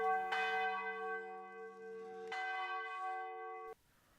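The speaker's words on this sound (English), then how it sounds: "rushes up the many steps in time to see the bells ringing" Church bells in Croatia heard from inside the bell tower, loud and close, with two heavy strikes that each leave a long, shimmering ring before cutting off.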